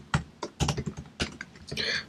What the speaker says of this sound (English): I think I need to start typing slower for ChatGPT.